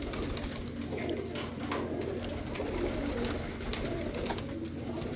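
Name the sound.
breeding pigeons cooing in a loft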